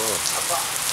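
Steady rain pattering on a surface, a dense, close wash of drops that continues without a break.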